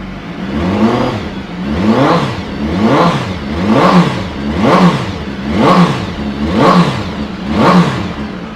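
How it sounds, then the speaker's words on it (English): A 2016 BMW S1000RR Sport ABS motorcycle on its standard exhaust revs hard and close, with about eight evenly spaced throttle blips rising and falling in a steady rhythm. "Give this a quick fire up, they sound through it even just with standard exhaust on."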